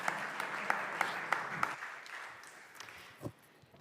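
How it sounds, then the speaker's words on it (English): A conference audience claps in a moderate round of applause, with sharp individual claps standing out early before the sound thins and fades to scattered claps. "A warm applause for them, please."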